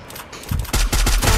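In the mobile game Free Fire, several loud close gunshots fire in quick rhythmic succession, each one a sharp burst, with a short gap before the rapid fire begins.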